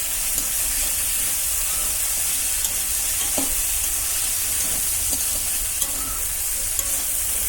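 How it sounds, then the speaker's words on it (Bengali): Green chili paste sizzling and frying in a pan, a loud continuous hiss with occasional soft stirring clicks close by. "লঙ্কা বাটা দিয়ে দিলাম একটু ভালো করে জিনিসটাকে নাড়াচাড়া করে একটু ভালো করে কষিয়ে নিতে হবে"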